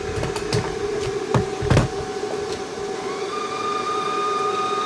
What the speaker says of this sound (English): we're going to press our little feed wire button, which is just there